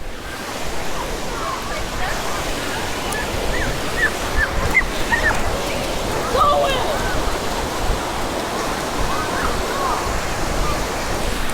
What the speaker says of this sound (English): Wait till the waves are a bit bigger and the water's a bit deeper at high tide.